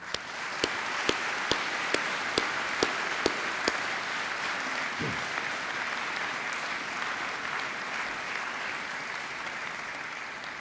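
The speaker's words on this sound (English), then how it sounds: "join me in showing their appreciation by applauding your support" Graduates at a Swansea University graduation ceremony applaud their supporters. A few loud, distinct claps ring out close by at the start over a continuous, dense round of clapping filling the hall, which carries on steadily to the end.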